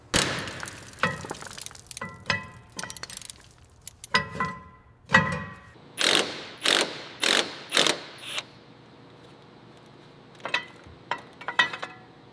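Torque wrench ratcheting on BMW M4 Competition parts during a restoration: short clicking and clattering bursts, then a run of five loud, evenly spaced ratchet pulls, a quiet gap, and a few lighter clicks at close range.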